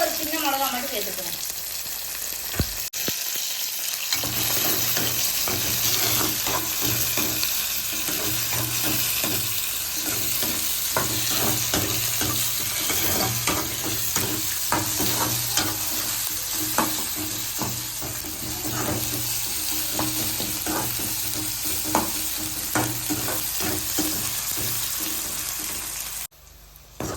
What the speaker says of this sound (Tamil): வெங்காயம் தக்காளியெல்லாம் நல்லா வதங்கிடுச்சு.